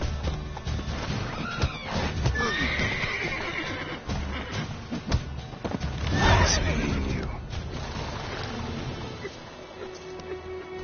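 Geralt's horse Roach from The Witcher 3 neighing and clip-clopping as it sets off running, with hoofbeats and a loud whinny mid-way, mixed with game effects and voices.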